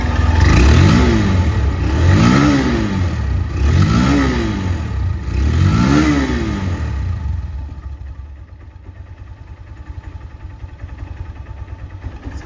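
A second-hand Honda Hornet motorcycle engine is revved three times in a slow, even rhythm, each rev rising and falling loud and close, before settling into a quieter steady idle.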